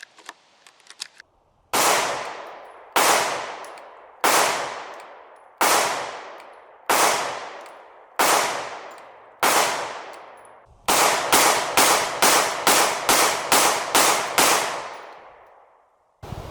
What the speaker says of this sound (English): the KOR FX-9, we're out here at the range. We've been shooting it quite a bit.